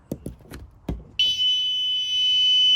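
A student-built car alarm project emits a steady, piercing electronic alarm tone that starts abruptly and holds loud and unbroken, preceded by a few sharp taps or clicks.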